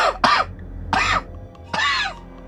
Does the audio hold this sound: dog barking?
no